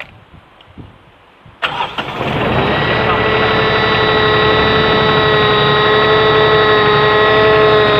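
A 3-cylinder diesel engine on a hydraulic pump unit, rated 20.9 kW, cranks briefly after a quiet pause, then catches and settles into a loud, steady idle with a strong tonal drone, close by.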